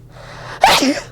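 A single sharp sneeze, close and loud, preceded by a brief inhale.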